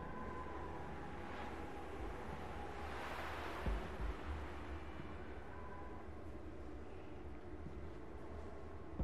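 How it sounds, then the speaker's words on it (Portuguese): Eerie wind in the Unravel video game, a steady broadband rush that swells into a louder gust midway before settling back into a constant windy roar, with no voices over it. "Os ruídos que tem nesse vento é assustadoramente assustador"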